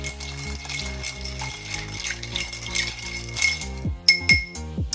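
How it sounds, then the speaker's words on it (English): Ice cubes drop into a glass for a smoked old fashioned cocktail, close up and alone. Bright clinks and knocks come in a quick cluster, with a few sharper rattles near the end. "Lastly, we add the ice."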